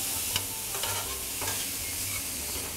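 Quail sizzling in a hot pan while being stirred, a steady close fry with a few soft scraping strokes.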